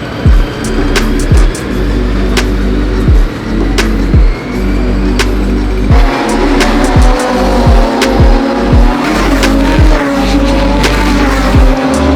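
A Radical race car at speed on a qualifying lap of Circuit Zandvoort, its loud engine screaming through repeated sharp downshifts and upshifts, with rhythmic gear changes and occasional tire noise, no voices.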